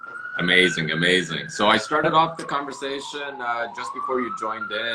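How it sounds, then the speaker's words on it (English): A wailing siren rises and falls steadily in the background while two people talk over it in the foreground. "Sorry for the siren going on in the background."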